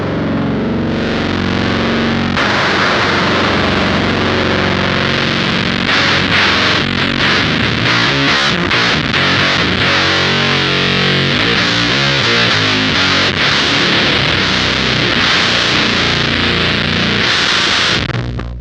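Electric guitar played through a Fuzz Imp fuzz pedal with its high control turned up: a thick, saturated, buzzing fuzz tone with bright, cutting treble. It is loud and sustained, chords ring continuously with shifting strums, and there is no talk.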